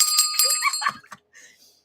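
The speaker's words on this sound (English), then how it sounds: "Let me ring the bell on my books." A hand bell is rung up close in a few quick, bright rings that fade into a short ringing tail and then quiet.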